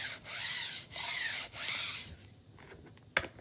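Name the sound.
rubbing chalk paste down along wood grain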